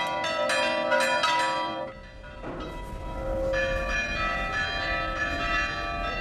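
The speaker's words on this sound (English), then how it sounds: "The tolling of the bells calls the whole community together." Church bells toll in a village in Cyprus, ringing strikes rising over a steady outdoor background and then a lower sustained bell tone.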